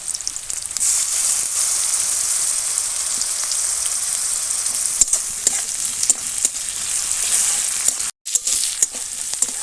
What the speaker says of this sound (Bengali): এবার এর মধ্যে আমি এই যে রসুন বাটাটা দিয়ে দিলাম